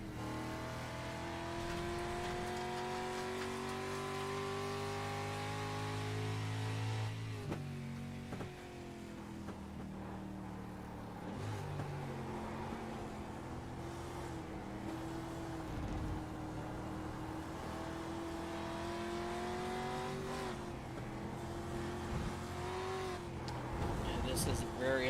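Race car engine from a tube-frame racing video game, revving and surging through turns with sharp throttle lifts and gear changes, loud and sustained beneath a commentator's voice.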